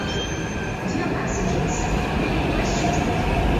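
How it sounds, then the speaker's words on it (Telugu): A train rumbles steadily past at close range, a constant broadband roar with faint high squeals from the wheels. "ట్రైన్ వచ్చేసింది, పోయి ట్రైన్ వెళ్ళిపోయింది."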